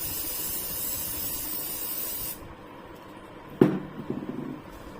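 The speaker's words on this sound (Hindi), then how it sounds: "आपको स्प्रे हमेशा इस तरीके से करना है" Hair spray hisses in one steady, continuous burst lasting a couple of seconds during a professional hairstyling class, then cuts off, followed by a sharp click and light clattering of the can or tools.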